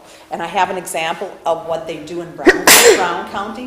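A single loud sneeze bursts out during a town board meeting, landing abruptly in the middle of a person's ongoing speech, which continues right after it.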